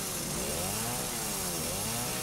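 A chainsaw revs steadily in Resident Evil 7, its engine drone wavering in pitch throughout, loud and continuous with no speech.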